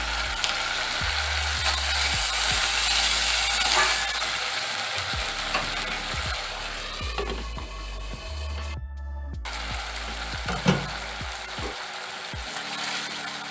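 A tomato sizzles loudly in a pan after salt goes in, with ginger already frying, and a spatula scrapes and knocks against the metal again and again at close range over a constant bright hiss.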